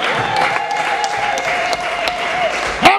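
An audience claps at a Swahili church or teaching gathering, a continuous close burst of applause running the full length, with a faint sustained tone underneath.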